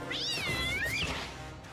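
A cat in the video game Maliki gives one clear, drawn-out meow with a rising and falling pitch, close and alone with no talk over it.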